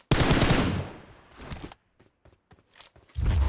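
Video game gunfire: a loud, dense burst of shots up front, then scattered quieter cracks and a renewed close burst at the end, with no talking.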